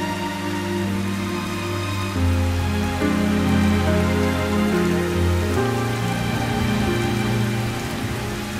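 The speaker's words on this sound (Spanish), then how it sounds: "Ayúdala, es solo lluvia." Continuous rain pattering on a surface under a sustained musical drone, a steady wash with no voices.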